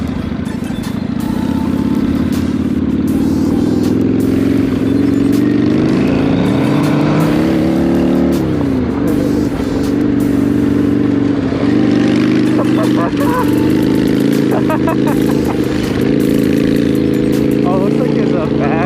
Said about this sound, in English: Riding the Harley on dirt.